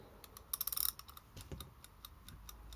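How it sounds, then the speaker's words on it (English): A cow-shaped kitchen timer ticks in even, rapid clicks, with a louder burst of close mechanical clatter early on and quieter regular ticks continuing after. "Loud ticking."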